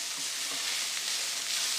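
Curry with pigeon peas and cassava fries in a pot with a steady, bright hiss of sizzling, constant and close throughout.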